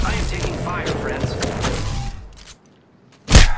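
Rapid gunfire in the video game Apex Legends: a dense burst of shots and thuds at close range, mixed with game sounds and a voice, dropping to near silence before one last loud blast.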